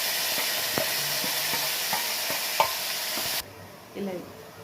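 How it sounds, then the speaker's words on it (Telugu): A ground curry leaf paste fries in a pan with reddened onions, giving a continuous loud sizzle with repeated spoon scrapes and taps. The hiss cuts off abruptly near the end, leaving a quieter stir. "ఇది ఇలా వేపుకుంటూ ఉండాలండి."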